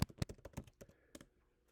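A handful of quick keystrokes tap on a computer keyboard as the word iPhone is typed, close and soft, a brief cluster of clicks fading into quiet.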